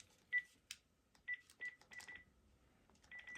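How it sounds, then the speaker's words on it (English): A landline phone system dials an extension with DTMF keypad tones, a series of short, clean electronic beeps in uneven bursts, some longer than others, heard quietly and close with brief gaps of near silence between them. "it starts with the DTMF D tone and ends with the DTMF C tone"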